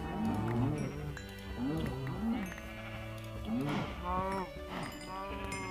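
Cows in the Minecraft video game moo repeatedly and loudly, several overlapping calls coming close together and rising and falling, with a few quieter lowing sounds in between.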